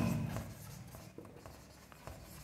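Pen scratching across paper while writing out a math proof that root two is irrational, with short irregular strokes and taps, close and fairly quiet, with no speech.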